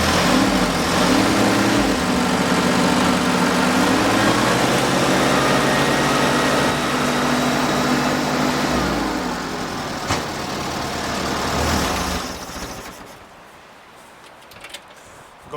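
A 1973 square-body pickup truck's engine, parked for over 20 years, runs loud and steady close by with a rough idle and some slight rises in speed, then cuts off near the end, leaving quiet.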